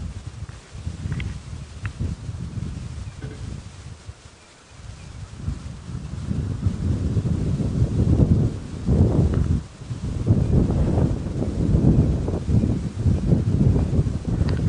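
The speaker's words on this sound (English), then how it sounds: "very windy conditions" Strong wind buffets an open vehicle on a morning safari drive, a continuous low roaring rush that swells and gusts louder through the second half, with a brief lull partway through.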